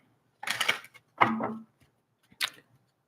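Oracle cards are shuffled in three short papery riffling bursts, close and crisp, separated by brief silences.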